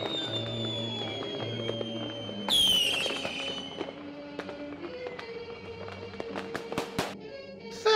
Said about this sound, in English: It's just like fireworks at a party.